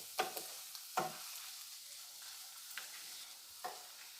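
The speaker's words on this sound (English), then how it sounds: "Saute this for a while. Keep the flame on medium. Keep on stirring this so that it gets even color." Chopped onion sautéing over a medium flame, a faint background sizzle broken by four or five distinct scraping stirs of a spoon against the pan.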